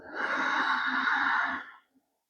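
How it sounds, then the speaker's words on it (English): A single deep breath drawn and slowly released through the nose during a beginner core yoga session, close and steady, a soft airy exhale fading out after about two seconds. "taking a few deep breaths in and out"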